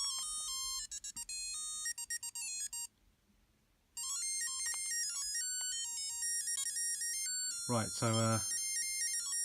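Beeping, tinny electronic music from a Tiger Electronics Sonic the Hedgehog LCD handheld plays a sped-up tune, pausing briefly before resuming, with someone speaking briefly near the end.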